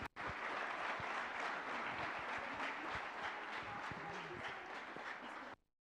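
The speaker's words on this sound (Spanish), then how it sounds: "vamos a recibir con fuertes aplausos" A church congregation at a Bible seminar breaks into loud, sustained applause for a music group, steady dense clapping for over five seconds before it cuts off abruptly.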